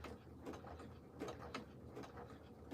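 A sewing machine running at its very slowest speed, giving a quiet, irregular mechanical clacking of gears and needle strokes, close but faint, with no voices.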